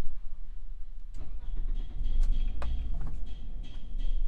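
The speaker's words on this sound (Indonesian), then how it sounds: "Coba kita akan nyalakan dulu mesinnya." A Toyota Alphard showing a check-engine fault cranks and fires up, its engine catching partway through and settling into a steady mid-pitched run with a couple of sharp transients, close and loud.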